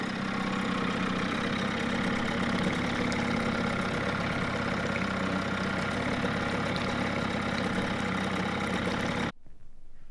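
A rebuilt Johnson 6 hp outboard engine idles low and steady, its even mechanical chug close and loud for about nine seconds before it cuts off abruptly.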